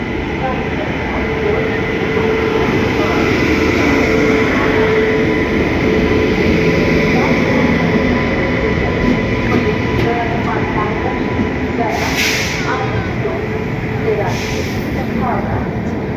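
An Indian Railways train fitted with new LHB coaches rolls into a station with a loud, steady rumble and rattle of wheels on track, sustained throughout, with faint high squeals near the end.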